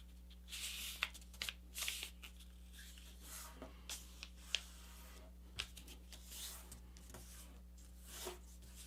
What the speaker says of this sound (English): And now I can fold the paper in half along that center crease